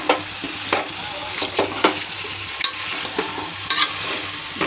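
Vegetables for a veg paneer biryani are stirred in a frying pan, with repeated spoon scrapes and tosses over a steady close sizzle, no voices.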